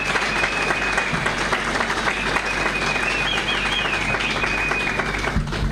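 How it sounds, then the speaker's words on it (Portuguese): Crowd applause at a political rally speech by the ANAMOLA party president Venâncio Mondlane, steady and dense throughout, with a faint whistle-like tone running above the clapping and a low hum underneath. "Então, mais uma salva de palmas para ela também."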